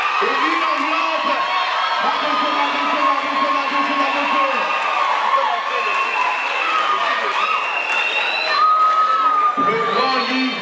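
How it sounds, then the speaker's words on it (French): Audience at a debate competition final cheers, whoops and claps for a woman, a lively continuous crowd roar with voices mixed in. "On applaudit à cette dame."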